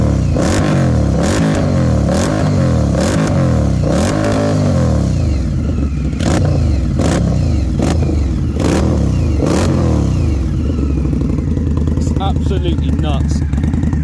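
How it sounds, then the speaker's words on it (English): A 2018 Indian Scout Bobber motorcycle engine revs hard again and again, loud and close, pitch rising and falling in repeated surges before settling into a rough idle. "you can hear how loud this bike sounds"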